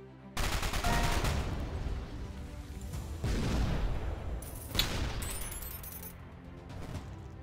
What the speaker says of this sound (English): Take this, firing squad.